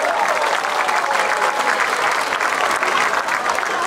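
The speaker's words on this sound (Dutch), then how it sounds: "Geef ze een groot applaus, de jeugdkoningin en de hofdames." Steady applause from a crowd at the opening of a children's holiday week with a lantern parade, honouring the youth queen and her ladies-in-waiting; dense, even clapping fills the whole stretch without letup.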